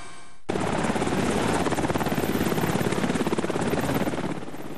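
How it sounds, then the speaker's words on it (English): A helicopter roars close overhead during an earthquake rescue in Japan, its rotor chopping in a steady rapid pulse that fades slightly toward the end, with no voices. "Some people were rescued by helicopter."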